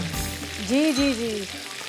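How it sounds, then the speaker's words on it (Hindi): Fish frying in a pan gives a steady, close sizzle, with a brief tonal whine rising and falling over it partway through. "फ़िश हमारी फ्राई हो रही है"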